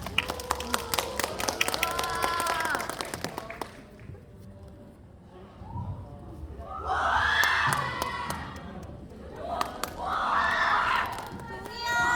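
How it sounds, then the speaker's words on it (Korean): A cinema audience at a film's stage greeting with the cast cheers and claps, with bursts of excited shrieks and crowd noise rising in waves, and amplified voices heard at the start. "큰 박수 부탁드립니다"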